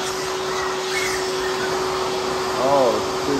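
A dog dryer blows air with a loud, steady whooshing roar, with a brief rise in pitch near the end.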